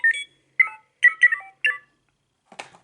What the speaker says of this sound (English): Now I've put the Resistance chip into Trixie. Let's see what she sounds like